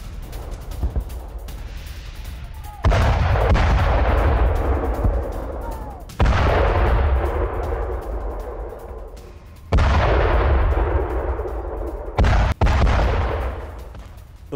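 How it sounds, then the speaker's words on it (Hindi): Heavy bombing during a Russian airstrike in Syria's Idlib and Latakia: four loud, deep blasts at intervals, each rolling out into a long rumbling decay over a constant low roar. "सीरिया में रूसी फोर्स की एयर स्ट्राइक, इदलिब और लताकिया में बमबारी हुई है।"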